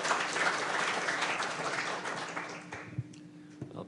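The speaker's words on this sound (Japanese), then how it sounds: "皆様拍手でお迎えください。" Applause from an audience welcoming a speaker at a Tokyo Foundation talk, a steady wash of clapping that holds fairly loud for several seconds before thinning out near the end.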